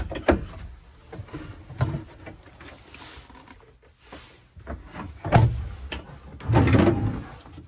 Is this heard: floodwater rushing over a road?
no